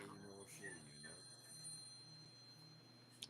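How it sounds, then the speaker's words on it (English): A telephone rings faintly as a soft electronic ringtone under steady voices talking, low in level throughout. "Phone call."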